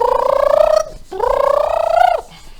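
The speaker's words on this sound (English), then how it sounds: "That's the sound of someone bulldozing their whiteboard." A whiteboard wiped vigorously, giving two rising, high-pitched rubbery squeaks in quick succession, each under a second long, close and fairly loud.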